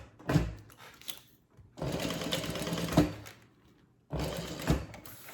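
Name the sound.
sewing machine top stitching a handbag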